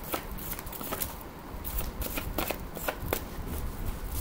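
Tarot cards are shuffled by hand in a quiet room, giving soft repeated riffling bursts and papery slaps in an uneven rhythm, close and fairly faint with no talking.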